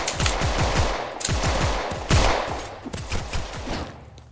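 Gunshots in a Roblox game, sharp repeated cracks in quick bursts with echoing tails, loud and close, continuing across the whole stretch with no speech.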